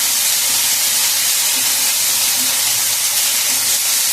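Spice paste of ginger, dried red chilli and ground black pepper frying in hot oil, giving a loud, continuous broadband hiss and sizzle that stays steady throughout, with no voices.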